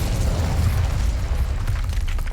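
Incendio fire spell in the Hogwarts Legacy video game bursting into a deep, rumbling whoosh that rolls on steadily for a couple of seconds, loud and low, with no talking.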